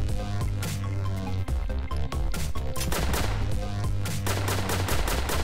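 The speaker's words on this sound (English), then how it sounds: "there's the boss. Twin machine guns, dual shot with average rate of fire" Twin machine guns from a boss in the video game Starward Rogue fire in rapid, dense volleys, loud and continuous, layered over a pulsing game soundtrack.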